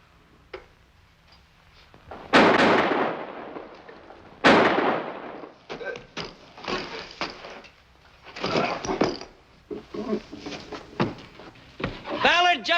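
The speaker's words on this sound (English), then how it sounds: "Ballard just shot Johnson." Two sharp, loud gunshots a couple of seconds apart in a 1954 western film, followed by a run of shorter clatters and voices talking.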